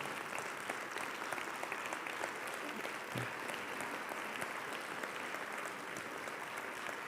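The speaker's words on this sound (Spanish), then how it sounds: "Ese aplauso va para él." Steady applause from a conference audience at a talk on humanization in healthcare, a dense even patter of clapping that fills the room at moderate distance and holds for about seven seconds without voices.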